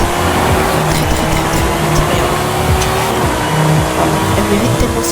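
Engine of a fast futuristic car in the racing game Forza Horizon 5, a steady loud motor drone with rising and falling revs, tire noise and occasional squeals, continuous throughout.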